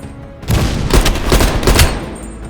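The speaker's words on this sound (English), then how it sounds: "Heavy MG on the ridge." Heavy machine gun firing on a ridge in Call of Duty Black Ops Cold War, a loud rapid burst of booming shots that rattles on for about two seconds after a quiet lead-in.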